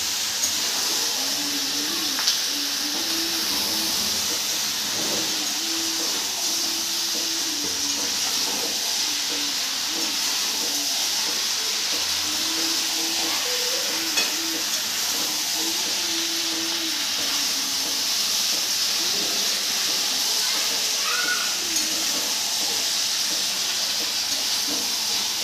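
Chicken simmering and frying in oil in a karahi for chilli chicken, a steady hissing bubble that holds for the whole stretch at moderate volume with no talk.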